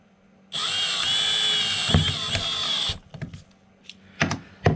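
A power tool gun drives fasteners to tighten tie-down plates on a full-height teardrop camper build, a loud steady whine running about two and a half seconds before stopping, followed by scattered clanks and handling noises.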